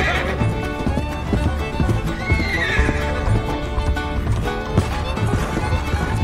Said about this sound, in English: You shot your horse.